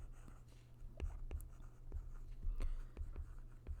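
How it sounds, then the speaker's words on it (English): Light tapping and scratching of a marker or chalk on a board as a math problem on multiplying numbers in scientific notation is written out, a steady run of small, close strokes in a quiet room. "Let's write this over here for directions."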